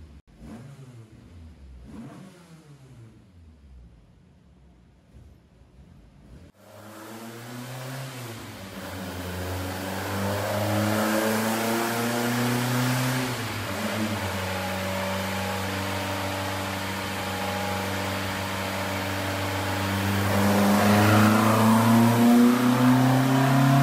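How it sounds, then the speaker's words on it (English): A Volvo 245 engine on a dyno, idling quietly at first, then catching and revving up into a sustained loud pull with rising tone, climbing further near the end. "In this video you will see Christoffer and his Volvo in dyno and on track."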